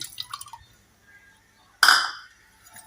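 Tamarind juice is tipped into a pot of beetroot curry in one short, sharp splash, preceded by a few faint drips and clinks, close and quiet.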